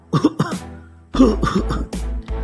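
Two men's rough coughing and throat clearing in several bursts, close and fairly loud, with a brief pause between two clusters.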